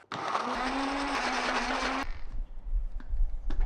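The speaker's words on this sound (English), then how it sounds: "And then we're gonna blend it till smooth." Blender whirring loudly as it purées macadamia nuts, lemongrass, galangal and belacan into a spice paste for laksa, a steady motor whine for about two seconds that then cuts off, leaving faint kitchen clatter.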